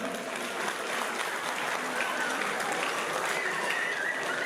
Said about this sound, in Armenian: շատ բարձր ծափահարություններ